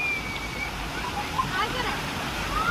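Water pours steadily from an overhead shower at the Shangrila Resort water park, a continuous close rush of spray and splashing with no breaks.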